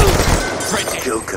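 Death Machine minigun firing in the video game Black Ops 2, a dense continuous rattle of rapid shots blended with battlefield noise and game voice callouts.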